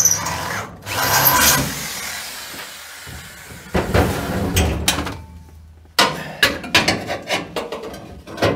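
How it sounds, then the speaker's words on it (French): A power drill bores a 7 mm hole for a 6 mm screw during brake work on a coupé-cabriolet car project, whirring in several separate bursts broken by pauses and clunks. "Percer à 7 pour une vis de 6."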